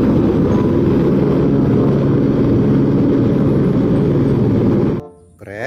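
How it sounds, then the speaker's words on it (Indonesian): A toy helicopter sound effect, a loud continuous whirring drone that runs unbroken for several seconds and then cuts off abruptly near the end. "Helikopter."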